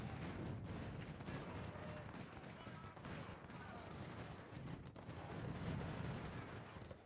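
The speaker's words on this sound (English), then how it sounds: "He gets in his wood line, and I sit in mine, and we just exchange volleys." Musket volleys exchanged between lines of infantry in the Civil War strategy game Ultimate General: Civil War, a dense, continuous crackle of rolling gunfire with dull booms, steady and loud for several seconds.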